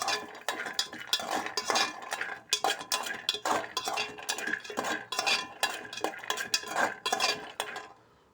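Peanuts roast in a pan and are stirred with a metal utensil, giving rapid, repeated scraping and rattling strokes close up, with a faint sizzle underneath.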